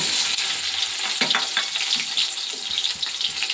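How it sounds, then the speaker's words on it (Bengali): Onions frying in a wok-style kadai just emptied after frying fish, a steady close hiss of sizzling oil with a few stirring scrapes, no voices. "পেঁয়াজটা ভেজে নিয়ে"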